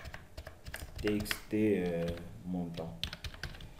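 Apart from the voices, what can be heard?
typing on a computer keyboard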